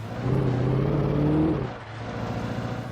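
A car driving in the Xbox 360 video game Alan Wake, with a steady engine hum and rising whir that eases off partway through, heard alone with no talk.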